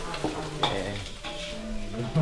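Fried rice sizzling in a pan at a riverside forest fishing camp while being stirred, with scraping and clinking of the utensil over a constant frying hiss in short, irregular strokes.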